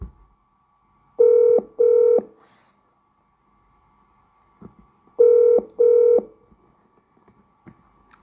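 Telephone ringing in two double-burst rings, each a pair of short electronic trills, separated by a few seconds of near silence with faint background noise.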